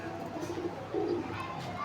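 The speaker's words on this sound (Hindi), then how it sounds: "ये देखिए किसी का कबूतर फैंसी इधर आके बैठ गया है" A fancy pigeon cooing nearby, two soft low throaty coos rising out of quiet outdoor background, with no voice over them.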